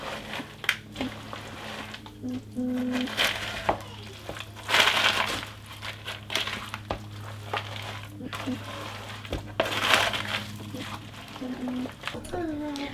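A spoon stirs melted butter into a cheesy potato casserole in a bowl, producing soft, squishy crunching scrapes in an irregular rhythm up close, with faint kitchen hum.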